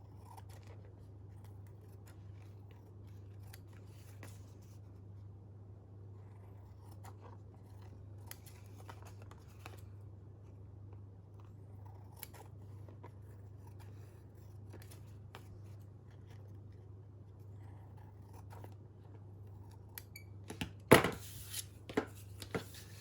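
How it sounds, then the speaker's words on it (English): Scissors trim excess paper from a glued postcard, with faint, sparse snips over a low steady hum and a brief cluster of crisper cuts near the end. "Tip your postcard back over and just cut away the excess."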